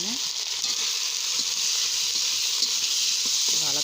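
Spices with dry red chili powder sizzle and hiss in a pan, a constant bright frying noise with soft stirring scrapes and a brief voice underneath.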